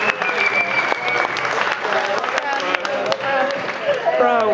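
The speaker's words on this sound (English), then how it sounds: "Big round of applause for the bride and groom" Lively applause and cheering for the bride and groom during wedding speeches, clapping mixed with voices and whoops, fairly loud and continuous.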